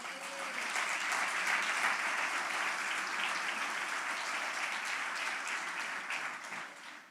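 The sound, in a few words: congregation applause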